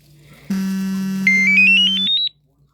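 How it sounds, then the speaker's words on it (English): Electronic alarms sound together, a loud steady low buzzing tone joined by a rising series of pulsed high beeps, ending abruptly after about two seconds. "Oh, all my alarms are going off."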